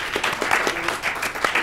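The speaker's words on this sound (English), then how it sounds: "let's give them a round of applause" A panel audience applauds the environmental journalists after their discussion, producing a brief, full burst of continuous clapping from a crowd.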